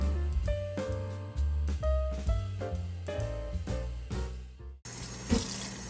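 Tap water runs into a kitchen sink to wash mushrooms, a short broadband rush that starts near the end over steady tonal background music.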